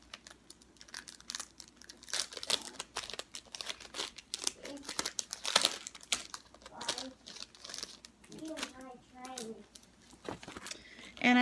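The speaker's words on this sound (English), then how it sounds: "this is baggie number two" A plastic sample baggie crinkles and rustles close up in irregular bursts while someone talks over the handling.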